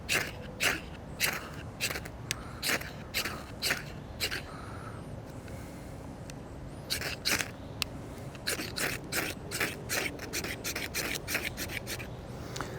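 A Buck 110 folding knife's lock back scrapes down a ferro rod in rapid, close rasping strokes, in two bursts of repeated scrapes separated by a brief quieter pause.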